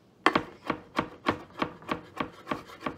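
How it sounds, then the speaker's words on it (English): A knife chops fresh thyme on a cutting board, rocking back and forth in an even rhythm of about ten soft, scraping strokes, close and without talk. "Just chop it up until it gets nice and small."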